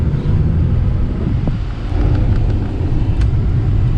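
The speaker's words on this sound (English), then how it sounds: "Drives, no check engine lights. Yeah, she drives." A 1999 Acura Integra with a newly fitted distributor drives on a test run, giving a close, steady low engine and road rumble with light wind buffeting.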